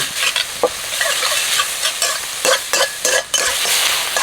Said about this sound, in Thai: หมูสับก็เอามาลวนน้ำมันนะครับ ใส่ซีอิ๊วขาวนี่ก็จะเพิ่มความหอม